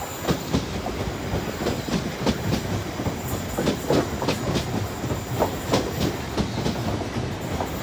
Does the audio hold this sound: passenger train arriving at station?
yes